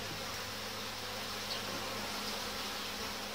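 Honeybees buzzing at an open hive during a colony inspection, a dense, steady hum with no break across the short span, close and fairly loud, with no voices.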